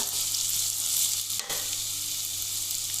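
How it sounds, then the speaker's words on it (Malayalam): Onion, garlic, ginger and green chilli sautéing in a hot pan give a steady, close sizzle and crackle, with a brief stir-like break partway through and no voices. "എല്ലാം ഇട്ട് വഴറ്റി"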